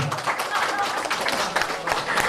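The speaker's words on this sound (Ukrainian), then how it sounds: "всі гарно плескають долоні" Wedding guests clap their hands together at a wedding in Bratkovychi, a steady dense patter of many hands with voices mixed in throughout.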